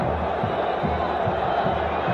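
Steady stadium crowd noise from São Paulo supporters at the 1982 Campeonato Paulista final against Corinthians, a broad continuous roar with rhythmic low pulses, like drumming or clapping, beneath it.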